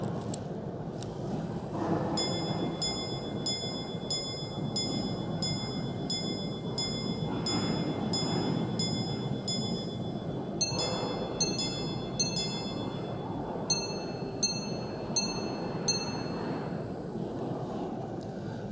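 An A. Lange & Söhne Richard Lange Minute Repeater watch strikes a series of bright metallic gong tones in an even rhythm, low for hours and high for quarters, over a soft whirring background.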